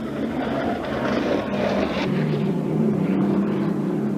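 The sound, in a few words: unlimited hydroplane racing boat with supercharged Allison engine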